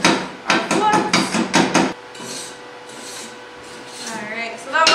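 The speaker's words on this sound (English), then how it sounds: "we're going to take our chipping hammer, remove our plugs" A chipping hammer knocks slag and plugs off a fresh stick weld made with a Forney Easy Weld 180 ST, giving a quick run of loud, close metallic raps for about two seconds before a quieter scraping stretch.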